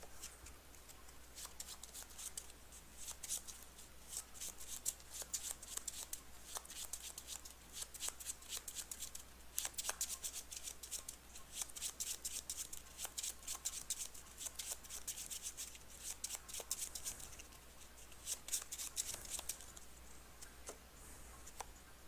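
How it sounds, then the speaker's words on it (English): A deck of game cards shuffled during an Arkham Horror card game, with quiet, rapid riffling clicks and taps repeating throughout a long stretch, faint and close with no voices. "the first one shuffles the deck and puts a horror on the lab assistant"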